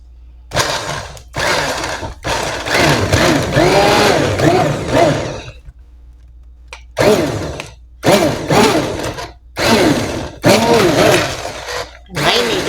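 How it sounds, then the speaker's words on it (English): Loud bursts of an immersion blender puréeing carrot top and nettle soup, whirring in repeated spurts of a few seconds each, with short pauses between and faint background noise. "I'm going to use my immersion blender and see how smooth we can get it"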